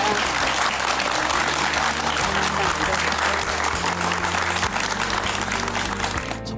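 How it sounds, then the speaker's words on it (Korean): Audience applause at a Korean lecture event on the economy and the Chinese market, dense sustained clapping from a crowd, loud and steady throughout with faint speaker background. "다시 한번 큰 박수 부탁드립니다"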